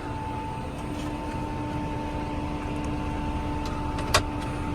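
Massey Ferguson 5S.145 tractor driving back, a steady low engine drone with a constant hum throughout, fairly close and even, with one brief click near the end and no voices.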